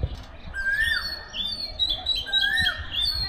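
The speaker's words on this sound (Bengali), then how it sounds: "কোকিল ডাকতেছে, শোনেন" A koel calls among trees around a house in Bangladesh, two rising whistled notes spaced apart over a backdrop of smaller birds chirping and a soft breeze.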